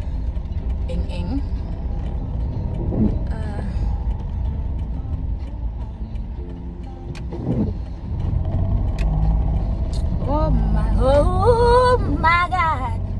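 Continuous street traffic rumble with passing vehicles and occasional mechanical clatter, steady and fairly loud, with someone talking over it toward the end.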